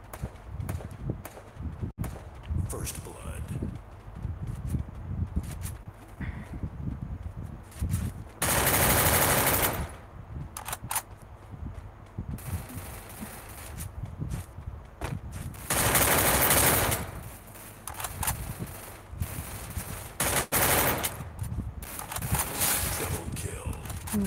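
Rapid bursts of SMG machine-gun fire in the Free Fire battle royale game, several sustained loud volleys separated by shorter shots and footsteps, with a player talking over much of it.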